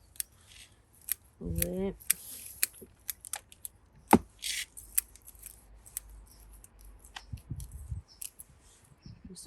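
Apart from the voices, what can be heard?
pruning shears cutting privet bonsai branches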